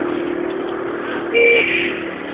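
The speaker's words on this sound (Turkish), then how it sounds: "Evet şu anda motorla gidiyoruz." A motorcycle rides along with a steady mid-pitched engine drone and wind noise, and a brief surge in loudness partway through.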